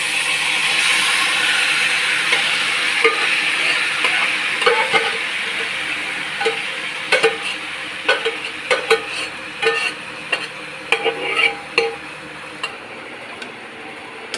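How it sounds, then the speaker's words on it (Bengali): Masala-marinated meat fries in a kadai for a biryani, with a steady close sizzle broken by a run of sharp scraping and clacking stirs that grow more frequent toward the end. "এই মাংসটা এবার কষার জন্য কড়াতে দিয়ে দিচ্ছে বন্ধুরা"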